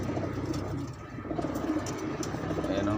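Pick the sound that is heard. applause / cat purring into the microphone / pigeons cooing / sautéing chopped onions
pigeons cooing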